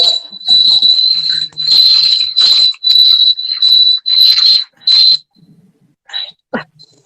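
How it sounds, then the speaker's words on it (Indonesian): Cricket chirping close by in loud, steady trilled bursts separated by short pauses, ending with a few quieter chirps. "Jangkrik kali ya. Jangkiknya mau ikut."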